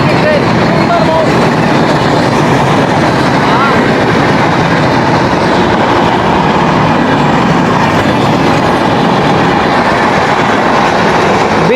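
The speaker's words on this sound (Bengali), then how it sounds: "সুন্দরবন এক্সপ্রেস, খুলনা ঢাকার একটি ট্রেন সুন্দরবন।" The Sundarban Express, a Khulna–Dhaka train, rumbles past at Padma railway station, loud and close, with steady clattering wheels and roaring noise throughout.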